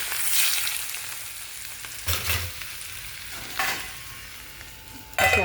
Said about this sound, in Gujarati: હવે આપણે આ તેલ આમાં રેડી દેવાનું